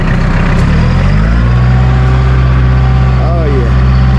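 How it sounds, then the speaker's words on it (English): A Bobcat CT440B compact tractor with freshly repaired wheel hubs drives around, its diesel engine running loud and close with a steady low drone and a whining note that rises. "Chris will give a little drive around just to give it a good check out"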